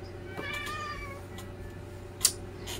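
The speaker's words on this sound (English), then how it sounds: "I do apologize for the noise background Moose makes" A pet cat meows in the background of a quiet room, with one drawn-out meow early on, faint short calls afterward and a brief sharp click near the end.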